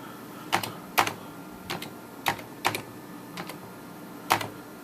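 Keys are tapped on a computer keyboard in a short, uneven burst of about eight distinct clicks, close and fairly quiet, with no talking.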